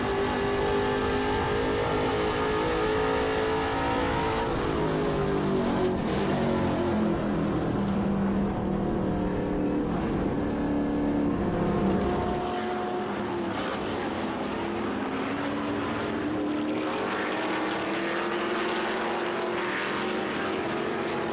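Onboard a TA2 Trans Am race car with a Howe chassis at Portland International Raceway, the engine roars loud and constant, its pitch climbing and dropping through shifts before settling lower.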